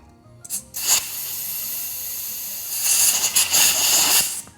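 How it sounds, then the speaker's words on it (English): An air compressor's chuck hisses into the tire of a Baja Wrangler 2, short bursts at first and then a longer sustained rush of air, loud and close, with no voices. "just using an air compressor with an air chuck like this is not gonna do anything"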